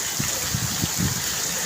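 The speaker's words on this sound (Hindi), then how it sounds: "बारिश का पानी।" Heavy rainwater gushing during a stormy downpour, a loud continuous rushing wash of water close by, with faint low thumps pulsing beneath it.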